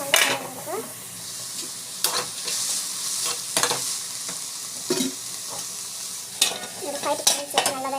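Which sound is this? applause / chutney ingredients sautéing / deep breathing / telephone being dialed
chutney ingredients sautéing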